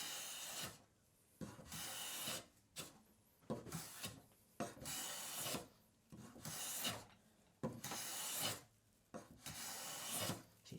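A hand plane with its cap iron set shaves across wood in a series of long, rough rasping strokes separated by short pauses, close and steady without speech.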